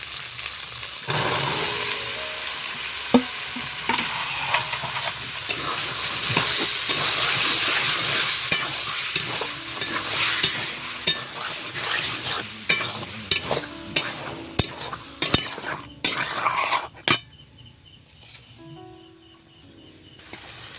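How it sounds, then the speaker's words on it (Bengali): Boiled peas tossed into oily, well-fried masala for chicken ghugni sizzle and hiss steadily in the pan, with stirring scrapes and clicks growing sparser and quieter toward the end; no talking. "এবার সেদ্ধ করা মটরশুঁটিটা দিয়ে দেবো"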